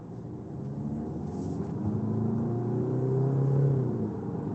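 The 1.5 engine of a DS 4 Cross revs up while driving, a steady cabin rumble with a rising, growling engine note that climbs and then eases slightly.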